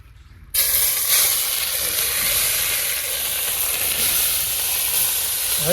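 Grated carrots drop into hot ghee for carrot halwa, bursting into a loud, steady sizzle and hiss that starts abruptly and holds close and continuous with no talking.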